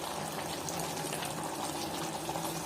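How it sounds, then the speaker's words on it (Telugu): Gravy poured into a pan of mutton curry, a steady gushing, bubbling liquid wash that holds evenly for the whole moment, close and moderately loud. "ఇక్కడైతే మేము గ్రేవీ యాడ్ చేస్తున్నాము"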